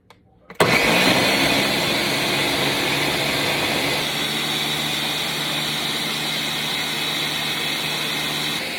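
A loud, steady motorized whir of a high-powered Vitamix blender blending soup starts abruptly and runs continuously at high speed.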